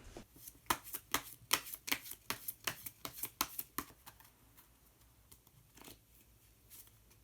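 Tarot cards being shuffled and drawn, a run of quick, crisp riffling snaps close up, then slower, sparser card slides and taps, with no voice.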